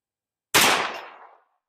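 A single loud, sharp report from a Ruger LC Carbine 10mm rifle cracks after a moment of silence and then rings out and decays over nearly a second, heard outdoors without voices.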